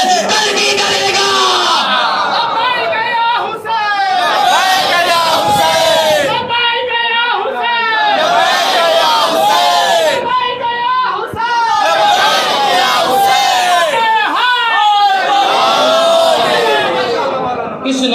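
A large crowd of mourners at a Muharram majlis loudly chants the slogan Labbaik ya Hussain in Vizag, repeated voices rising and falling in a rhythmic collective roar that fills the whole stretch.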